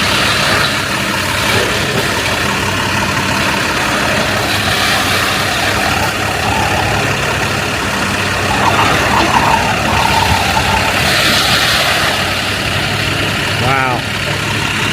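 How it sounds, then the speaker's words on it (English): A truck engine idles with a steady, loud rumble beside a mall demolition site, with street noise around it and people talking over it. "At least away from the noisy truck."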